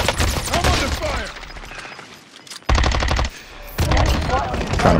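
Gunfire in the video game Call of Duty Warzone Caldera, loud rapid machine-gun bursts that break off into a quieter gap and then resume, close and dominant.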